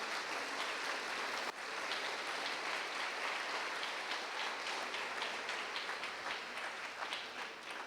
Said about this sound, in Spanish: Demos fuerte ese aplauso a nuestro Dios.